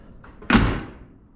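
A truck cab door, freshly hung on brand new Cunningham door rollers, swings shut with a single solid slam that rings out briefly, preceded by a faint click.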